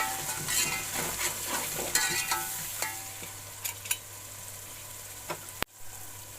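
Spices with ground red chili and turmeric stirred in a hot oiled pan, giving a steady close sizzle with repeated scraping strokes of a spoon and a sharp knock near the end, with no voices.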